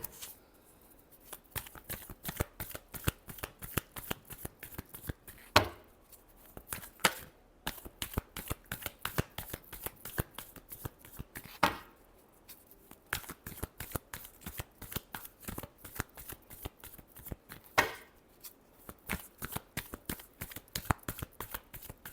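Tarot cards shuffled by hand during a reading, a steady run of quick crisp riffles and flicks with brief pauses between bursts, close and fairly quiet, no talking.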